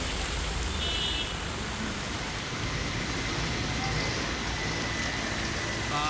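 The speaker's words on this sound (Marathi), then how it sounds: "कालपासून गेले दोन तीन दिवस मुसळधार पाऊस आहे" Heavy monsoon rain pours onto a flooded road in Bhandup, a dense, steady hiss of downpour throughout, with faint traffic sounds and a distant honk in the background.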